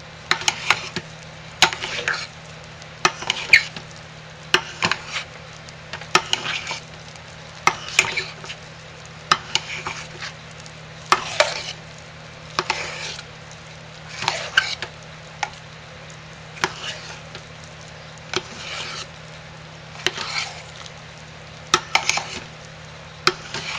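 Essential oils are stirred into a large batch of hot process lye soap in a pot, with regular rhythmic scraping strokes about once a second over a steady low hum, close and without speech.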